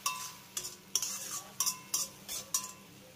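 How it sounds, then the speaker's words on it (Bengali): Spices being stirred into tomato and onion in a pan, a utensil scraping the pan in about seven quick rhythmic strokes with a faint sizzle beneath, close and fairly quiet with no talking. "আর এবার এই মশলাগুলোকে টমেটো আর পেঁয়াজের সঙ্গে খুব ভালো করে একবার মিশিয়ে নেব।"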